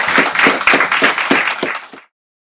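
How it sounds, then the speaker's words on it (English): A short burst of rhythmic clapping from an audience at a children's team presentation event, fairly close and loud, lasting about two seconds before cutting off abruptly. "Can we get another round of applause, please?"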